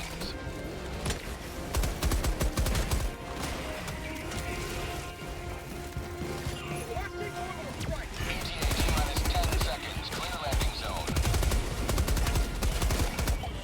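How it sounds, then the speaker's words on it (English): Machine gun sentry firing in Helldivers 2, dense rapid gunfire bursts mixed with game explosions and effects, loud and sustained throughout, with a voice talking over it at times. "Do some work, machine gun sentry, let's go!"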